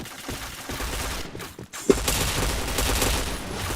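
Bursts of gunfire in a shooting video game crackle steadily, with a sharp louder shot standing out midway and rapid firing continuing afterward.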